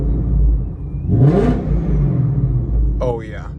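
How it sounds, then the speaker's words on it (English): A Ford Mustang GT with an ESS supercharger and Cobra Jet parts revs up briefly, the engine rising sharply to a loud close roar and settling back to a rumbling idle, with a voice speaking at the end. "Let me give it a little rev,"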